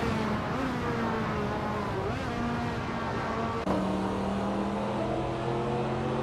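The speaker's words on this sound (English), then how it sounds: "driving a 1999 Pagani Zonda C12" A 1999 Pagani Zonda C12 engine in a racing video game drones steadily at high revs, with a sharp pitch shift partway through as it changes gear, continuous and close with no talk.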